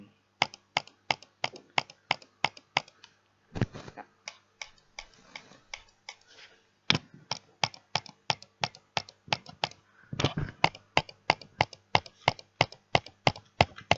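A computer mouse is double-clicked rapidly at 8-10 clicks per second, sharp paired clicks coming in fast regular bursts with brief pauses between runs, close and crisp.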